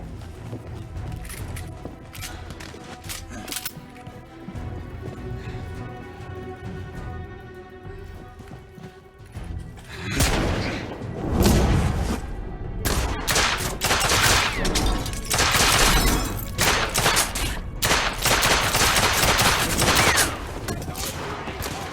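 Gunfire in the video game The Order 1886, with rapid shots cracking over a busy game soundscape and intensifying into heavy, loud volleys in the second half.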